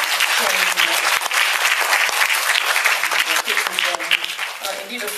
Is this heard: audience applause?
yes